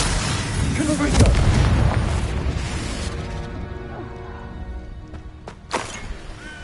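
Fiery Confringo spell blasts in Hogwarts Legacy go off as a heavy boom early on and another sharp burst near the end, with rumbling debris and a voice talking over the action.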